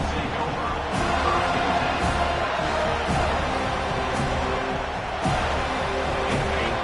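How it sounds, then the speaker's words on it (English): Stadium crowd at a Florida State football game roars steadily right after a kickoff return, a dense continuous wall of cheering with brief louder swells. "This crowd bringing the energy and noise early."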